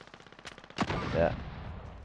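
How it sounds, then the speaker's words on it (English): Rapid gunfire bursts in the Call of Duty: Modern Warfare video game, a fast automatic rattle followed by a louder shot and a lingering boom, close and punchy. "I'm taking fire."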